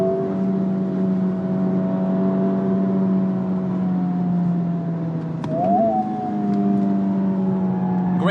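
A 2023 Honda Civic Type R FL5 engine drones steadily on track, holding a sustained tone before a quick rev blip during a downshift, then settling again, loud and close from inside the cabin.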